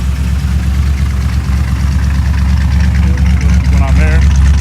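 A 1957 Ford Fairlane Sunliner convertible engine idles steadily and loudly up close, a constant low rumble that holds through the whole stretch with no revving.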